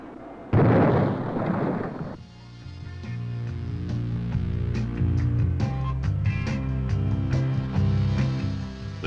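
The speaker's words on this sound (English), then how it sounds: "walleye hit the ship at the base of the superstructure" A Walleye guided bomb strikes a harbor utility ship at the base of its superstructure on the Pacific Missile Range, a loud sudden blast with a roaring burst that lasts about two seconds, followed by music.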